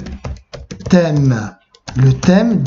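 Computer keys click in quick irregular bursts, close and clear, mixed with someone speaking French over them.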